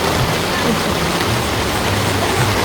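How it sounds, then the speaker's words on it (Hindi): Heavy rain pours steadily on a mountain pilgrimage trail to the Mata Rani shrine, a dense, loud, unbroken hiss close to the microphone with no pauses. "तेज़ हो गई बारिश।"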